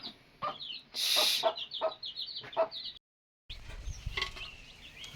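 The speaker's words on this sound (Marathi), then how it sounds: "तर मित्रांनो आपल्या कोंबड्यांका बाहेर सोडला बघा" Hens let out of their coop on a village morning cluck in short repeated bursts, close and fairly loud, with a brief rustle; the sound cuts out briefly, then more clucking and scratching follow.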